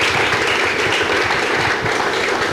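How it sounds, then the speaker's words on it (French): An audience at a church gathering applauds the singers, with dense, continuous clapping close and loud throughout, no talk over it. "On peut les applaudir, n'est-ce pas, ceux qui ont chanté là."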